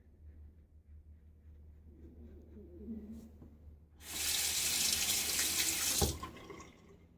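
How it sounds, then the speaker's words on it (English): Cold water runs from a bathroom tap during a wet shave, a steady bright gush that starts partway through, lasts about two seconds and cuts off, after quieter handling noise. "Cold water."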